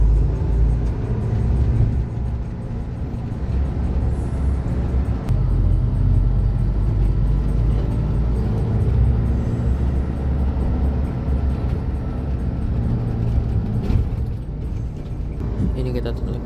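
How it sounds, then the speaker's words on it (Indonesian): Inside a Garuda Mas Mercedes-Benz executive bus crawling through a traffic jam near Ngawi on the Madiun–Jakarta route, a steady low engine rumble drones throughout, with voices talking over it. "Ini kita lagi macet-macetan ya teman-teman, entah kenapa di jalur bawah Ngawi macet."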